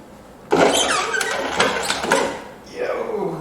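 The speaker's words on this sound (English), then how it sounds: "Okay, something's grinding on the motor." A C5 Corvette power window motor with a likely broken gear tooth grinds loudly in a harsh burst lasting about two seconds, then winds down and briefly whirs again.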